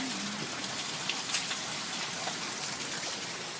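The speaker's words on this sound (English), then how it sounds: "Another rainstorm." An ice rain storm pours steadily, a dense, faint hiss of falling rain and drops pattering on surfaces, even and continuous throughout with no voices.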